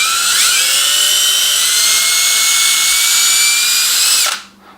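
Power drill boring screw holes for a surface-mounted 3.5mm audio jack flange on a NuTone SM428 master station, a loud steady high whine running several seconds before winding down abruptly.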